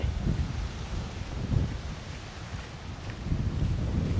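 Strong wind at a muddy beach in front of a campsite, roaring and gusting against the microphone in uneven surges, loud and continuous, with no voices.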